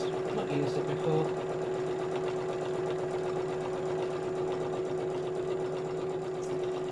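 Sewing machine stitching fabric for a homemade laptop pouch, with a steady continuous motor hum and rapid needle rattle running throughout at close range.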